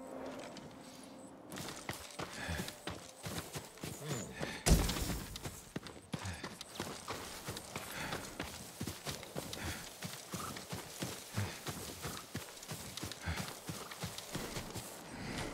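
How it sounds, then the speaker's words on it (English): A farm horse in the Ghost of Tsushima video game, a close, steady clip-clop of hooves over about fifteen seconds with a loud thud and a whinny partway through, and no speech. "I want to look at his horse."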